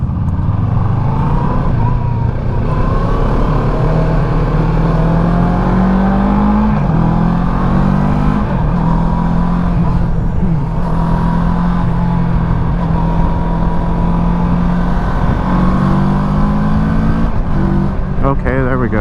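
CFMOTO 650 Adventura motorcycle engine accelerating and shifting gears, steady loud engine drone with rising pitch between shifts under wind rumble, close throughout.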